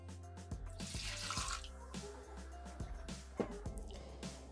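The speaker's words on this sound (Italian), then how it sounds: "Iniziamo la ricetta mettendo all'interno del boccale l'acqua" Water runs into a Thermomix TM6 mixing bowl in a kitchen, a light splashing pour with scattered small knocks and clicks under a low steady hum.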